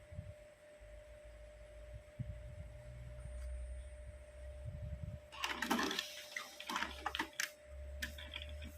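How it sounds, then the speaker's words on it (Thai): An Epson inkjet printer runs a colour test page with clogged print heads, giving a low mechanical hum followed by rapid clicking, ratcheting carriage and paper-feed sounds, fairly close and without voices. "เดี๋ยวลองเทสสีออกมาดูก่อนนะครับว่าหัวพิมพ์จะใช้ได้ไหมนะครับ"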